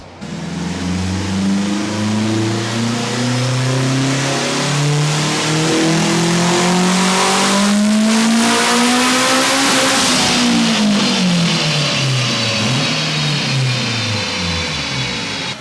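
Turbocharged eighth-generation Honda Civic engine revving hard through a full dyno pull, a loud, continuous rising wail with climbing harmonics that peaks around the top of the run, then drops as the throttle closes; no talking.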